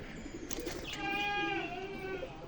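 Young pigeons give a short, drawn-out cooing call with a rising tonal note, close by, over faint background bird noise.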